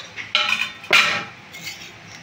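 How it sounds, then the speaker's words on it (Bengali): A lid is lifted off a pot of home-made Hyderabadi-style chicken biryani, giving two short metallic clinks and scrapes a moment apart, close by and fairly quiet. "ফাইনালি দেখো এবার ওপেন করে নিচ্ছি বিরিয়ানির ঢাকনাটা।"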